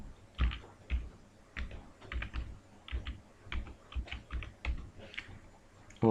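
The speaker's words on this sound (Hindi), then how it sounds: "इसके बाद जैसे मैंने लिख दिया योगी आदित्यनाथ," Names being typed into a Google Form on a computer keyboard: a close, steady run of crisp, irregular keystroke clicks and taps, with no voices.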